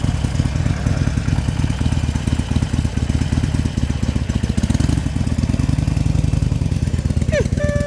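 A Harley-Davidson motorcycle from a salvage auction runs with a steady, loud, throbbing low rumble and a light touch of throttle, close by, with a brief higher whine near the end.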